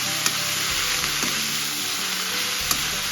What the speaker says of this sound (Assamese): তাৰপিছত আমি কাঠফুলাখিনি ধুনীয়াকৈ ভাজি ল'ম।